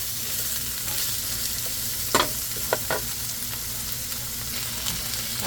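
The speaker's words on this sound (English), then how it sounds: "My tofu, they still cooking." Tofu frying in a pan with plenty of onions, a steady soft sizzle with a few sharp clinks of stirring near the middle, no talk.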